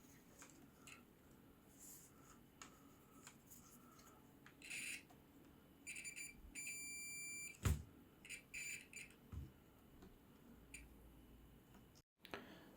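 A multimeter's continuity buzzer sounds a steady electronic tone for a couple of seconds, followed by a few shorter beeps, heard over a quiet background hum.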